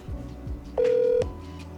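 A telephone call starts with a short ringback tone that repeats, then a steady held tone and a further pulse, heard close and alone with no voices.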